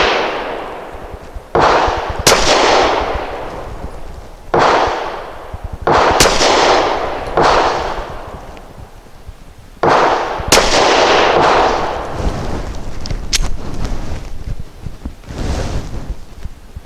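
Five loud, sharp pistol shots from a Diamondback DB9 Gen 4 fired at a target range, spaced a few seconds apart, each with a bright crack and a ringing decay.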